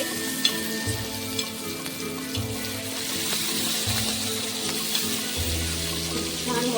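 Okra sizzles and fries steadily on a hot tawa for a Maharashtrian masala fry, with a few soft scraping stirs and low thumps as the pieces are flipped, close and continuous with no talk.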